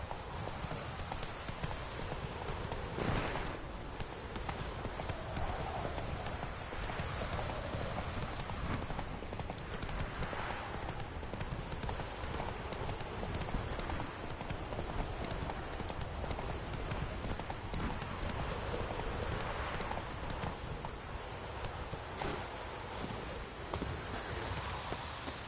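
A horse's hooves clip-clop steadily in The Witcher 3, with rain pattering throughout. The rhythmic hoofbeats continue at a moderate level under a soft layer of falling rain.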